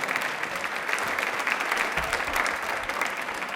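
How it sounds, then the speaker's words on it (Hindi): A studio audience at a televised quiz show claps steadily, a dense, even patter of many hands with no voices over it. "तालियां एक बार जोरदार बजा दीजिए"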